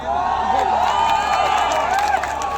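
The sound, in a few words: audience clapping and cheering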